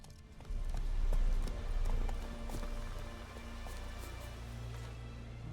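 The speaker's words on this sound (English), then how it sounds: "Run, Roach. Get off the horse" Horse hooves in The Witcher 3 clip-clop in a quick galloping rhythm, close and steady, settling into a slower trot toward the end, with faint background ambience.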